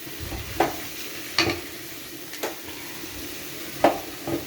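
Tomato curry frying in oil in a pan, stirred with a spoon that scrapes and clinks against the metal in about five separate strokes over a steady low sizzle, close and clear.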